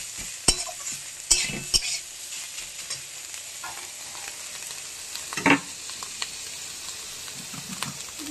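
Sliced banana stem frying in a pan with oil, stirred by a spatula; a steady soft sizzle runs throughout, broken by a few sharp scraping clacks of utensil against metal, no voices.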